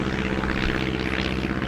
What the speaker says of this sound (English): Yo, what's up with all the planes?